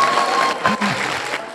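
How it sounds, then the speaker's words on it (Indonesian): An audience at a university public lecture claps briefly, a short burst of applause mixed with a voice over it. "Tepuk tangan untuk auditor."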